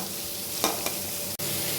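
Pumpkin pieces seasoned with salt and turmeric fry in a pan before bitter gourd is mixed in. There is a continuous close sizzle with a couple of brief stirring scrapes and a short clunk near the end, and no voices.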